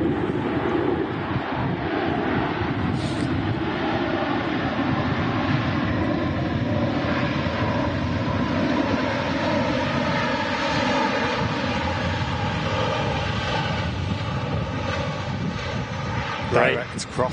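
A Ryanair Boeing 737 airliner at Manchester Airport during a storm produces a continuous broad engine roar mixed with gusting wind buffeting the microphone, steady and loud throughout, with people talking over it.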